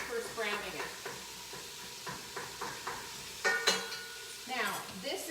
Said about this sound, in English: you want to get it nice and mushed up while you're cooking it when you're first browning it